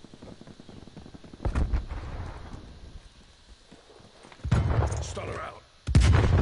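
Gunshots in an online shooter game fire in short bursts, with a loud burst in the middle and another near the end, over faint game noise. A player talks briefly in between.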